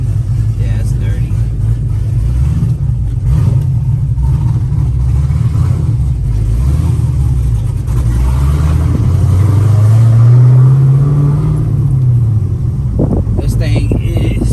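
Built 416 cubic inch stroker LS3 V8 runs loud and close with a steady low rumble, then revs up in a sweeping rise and falls back near the end, with people talking over it.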